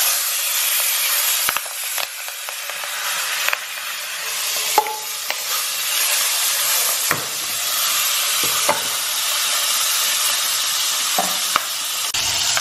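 A crucian carp fries in a hot pan with a continuous steady sizzle, broken by occasional sharper spits, pops and the clack of a utensil. No one speaks.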